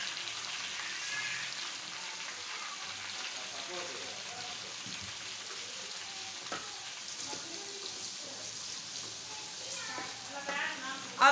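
Fresh curry leaves dropped into hot oil for a mixed chana and moong dal, giving a steady, bright sizzle and crackle that carries on throughout, with a person speaking over the frying.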